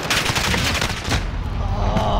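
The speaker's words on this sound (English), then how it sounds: "Oh, I heard the shooting." Constant dense gunfire in Call of Duty Modern Warfare, a loud, close wall of rapid overlapping shots that continues without a break throughout.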